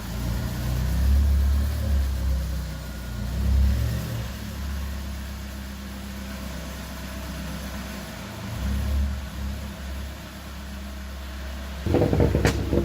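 A Vauxhall Corsa fitted with a VXR body kit drives off, its mid-pitched engine note steady and moderately close, swelling slightly as it pulls away, with a sharp clunk near the end.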